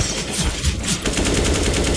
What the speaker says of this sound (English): Dude, why are you shooting at me